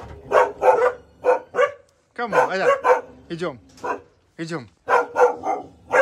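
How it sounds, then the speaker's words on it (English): Siberian huskies at a park in the Republic of Karelia, Russia, bark and yelp in short bursts up close, excited yips and howl-like whines coming in uneven clusters with brief gaps, while a person calls out to them. "When they are barking"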